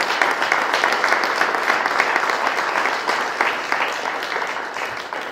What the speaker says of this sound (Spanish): Démosle un aplauso a nuestra madre santísima.